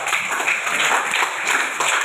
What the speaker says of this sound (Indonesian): Berikan tepuk tangan untuk jalan.